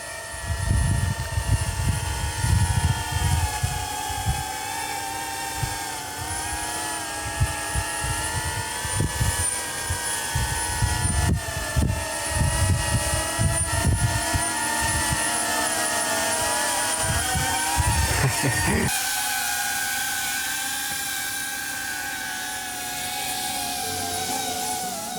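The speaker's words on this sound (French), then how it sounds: "Le drone s'élève dans le ciel et comme un esprit libre scrutant les paysages" A drone climbs into the sky over a bivouac camp at Quistinic, its steady whining buzz of layered tones shifting in pitch and staying loud and close for about twenty-five seconds, with a change in tone near the end.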